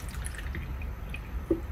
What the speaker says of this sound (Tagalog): Gagawin ko, papatungan ko ng tubig.